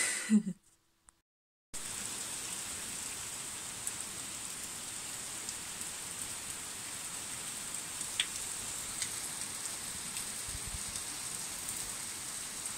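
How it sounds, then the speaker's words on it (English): Steady rain patters on a surface, a dense even hiss with occasional louder drips, following a short quiet moment at the start. "Lots of rain."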